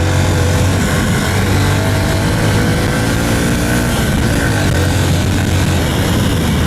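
A Honda CB125F motorcycle engine drones loudly and steadily with wind rush while riding, a constant low rumble with no voices throughout.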